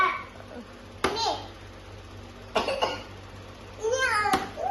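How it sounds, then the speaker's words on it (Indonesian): A person coughs a few times in a quiet room, with short sharp bursts spaced a second or more apart, amid soft child babble and light hand sounds. "Tadi dulu orang lagi batuk."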